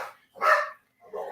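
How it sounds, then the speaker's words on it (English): A dog barks at home, with one loud bark and a shorter, quieter yap following after a brief pause, close to the listener with no other sound between. "I don't know what he's barking at. He's always barking, though."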